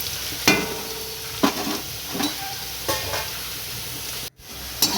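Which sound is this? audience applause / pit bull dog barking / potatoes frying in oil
potatoes frying in oil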